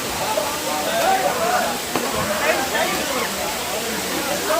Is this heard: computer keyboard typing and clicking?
no